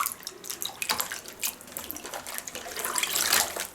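Tap water running into a sink while a hand-knitted garment is rinsed, an uneven splashing stream with bursts and drips as the fabric is moved, close and with no talk.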